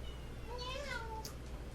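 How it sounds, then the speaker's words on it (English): A pet cat gives a single drawn-out meow, close and fairly clear, over a steady low background hum. "That's a cat."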